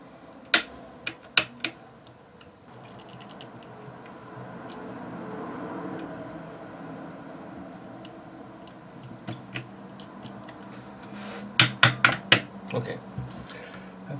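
A screwdriver taps a pin into an M10X-Z airsoft bolt from an M+M DMR: a few sharp metallic clicks at the start, a quiet stretch of faint handling, then a tight cluster of taps near the end.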